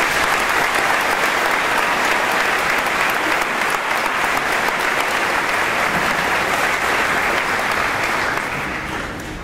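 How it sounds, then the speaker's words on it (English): Graduation audience at Mount Desert Island High School's 2015 ceremony applauds the class, a broad, sustained roar of clapping from a large crowd that stays full for about nine seconds before easing off. "Let's give them another round of applause."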